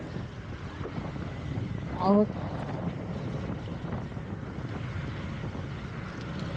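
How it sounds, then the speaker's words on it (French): Constant wind buffeting a microphone while riding an electric scooter, a low rumbling roar throughout, with a brief spoken exclamation in French partway through. "il y a un peu de vent"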